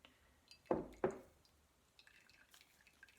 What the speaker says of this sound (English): Get a little more cold water to rinse it.